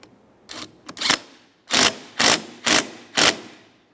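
A ratchet tightens the mounting nut on a 1994–1997 Honda Accord window transmission. It gives short, close bursts of clicking, two brief strokes and then four even, regular pulls, with no talking.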